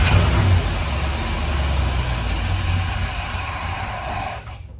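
LS-swapped van engine running rough and loud up close, with a steady throbbing drone that fades and cuts out at the end as it fails to idle.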